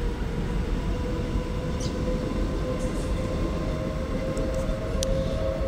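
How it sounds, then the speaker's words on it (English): A train rumbles steadily past at close range with a constant loud roar of wheels on rails, no pauses, and faint high squeals above the din. "what's the train going to go past now?"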